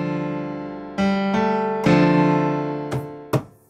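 A free piano software instrument uses its stock release setting: several struck notes and chords sound loud and close, each ringing out with an overly long, lingering tail that overlaps the next strike, ending with two quick staccato hits.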